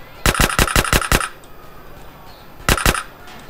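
Gunfire in GTA San Andreas rings out as a rapid burst of six sharp shots, then a brief quiet and two more quick shots, loud and close.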